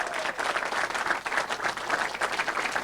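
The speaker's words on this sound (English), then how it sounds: "Let's applaud for the overflow room" Dense applause from a crowd at a political town hall in Waukee, Iowa fills the air, many hands clapping steadily with no pauses.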